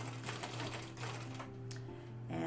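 Sewing machine stitching a quarter-inch turned hem across the top of an apron pocket, a steady close mechanical whir with rapid needle ticks running throughout, no voices.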